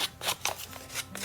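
The side of a pair of scissors scraped along a paper edge to rough it up, giving a series of rapid, rhythmic dry scratching strokes close by.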